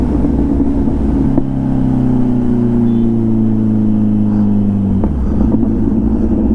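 A superbike engine drones loudly inside a tunnel, holding a steady, echoing tone that slowly drops in pitch before a brief change near the end; no one speaks.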